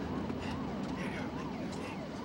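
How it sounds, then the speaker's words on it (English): An ambulance siren wails in repeating rising and falling sweeps, distant and faint beneath a steady background rumble. "I seen the ambulance coming down the other side"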